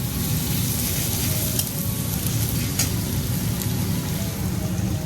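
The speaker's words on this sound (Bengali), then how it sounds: "এবার পেঁয়াজটা কিন্তু একটু বেশি ফ্রাই করব" Onions frying a little beyond pink in a pan, a steady loud broadband sizzle with occasional scrape-like clicks of stirring, continuous throughout with no talking.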